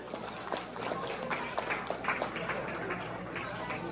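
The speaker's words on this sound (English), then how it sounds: "So give Shaka Khan a big round of applause" Audience applause at a human rights convention and cultural show, honoring a lifetime achievement award recipient; steady crowd clapping throughout, moderately distant, with voices mixed in.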